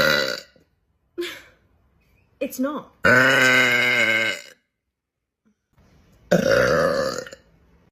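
A woman lets out several loud, drawn-out belches close to the microphone, separated by pauses, with a few brief spoken words between them.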